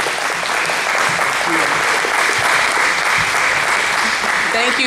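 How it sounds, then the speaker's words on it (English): A breakfast meeting audience gives a warm round of applause for a U.S. Senate candidate, producing a loud, sustained wash of clapping from many hands that stays even throughout. "a warm round of applause for Representative Krystle Matthews for U.S. Senate"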